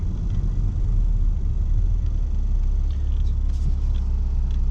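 A Mitsubishi Magna with nearly 600,000 km on its engine cruises along, giving a steady, loud low rumble of engine and road noise inside the cabin with no talk.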